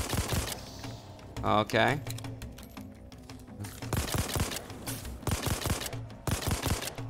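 Bursts of gunfire from a burst-fire weapon in a video game, arriving as short rapid clusters of sharp cracks spread across the clip, with a person speaking briefly between them.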